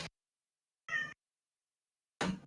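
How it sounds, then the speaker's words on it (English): A cat meowing to be let in, loud calls at the start, middle and end separated by silence. "Sorry, I gotta let my cat in."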